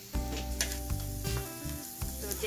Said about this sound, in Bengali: এখন এই পেঁয়াজ কাঁচামরিচটাকে আমি হালকা বাদামি রঙে ভেজে নিচ্ছি।